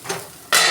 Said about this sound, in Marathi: परत झाकण ठेवून घेते मी